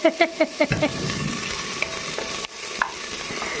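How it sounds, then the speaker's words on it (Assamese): Raw onions fry in a pan while being stirred, opening with a few quick ringing clinks of the spatula, then a dense, even sizzle with occasional scrapes; no talk. "পিঁয়াজ লৰাই আছে"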